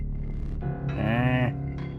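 A goat in the card game Inscryption lets out a loud, drawn-out bleat with a wavering tone, preceded by shorter rising bleats, close and alone without talk.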